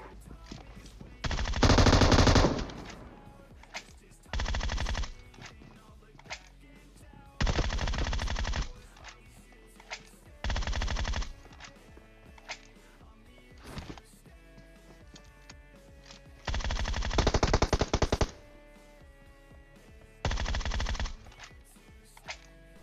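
Rapid bursts of automatic gunfire in PUBG Mobile fire in several separate volleys, each lasting about a second, over a steady low background of game sounds.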